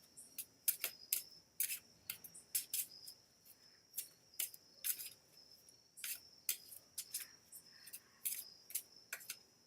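Playing cards being shuffled for a game, a rapid run of soft riffling and snapping bursts repeating in quick irregular rhythm, faint and close, with no talk over it.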